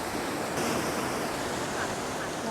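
Ocean surf washes steadily on the coast of Jeju, South Korea, in a broad, constant roar, with wind buffeting the microphone.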